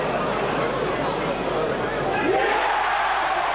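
A big rugby league crowd in 2002 roars steadily as Hull await a try decision against New Zealand, the dense cheering swelling loud and sustained throughout, with a rising shout near the end.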